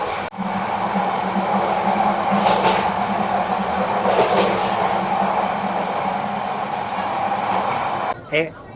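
A steady rumble of a moving passenger train on the Dhaka to Cox's Bazar route with rattling and rushing air, loud and continuous, followed by a brief knock near the end.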